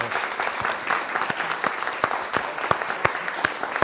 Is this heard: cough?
no